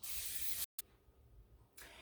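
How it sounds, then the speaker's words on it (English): A cooking spray can hisses steadily into a baking dish, pauses briefly, then gives another short spray near the end. "First, spray your baking dish."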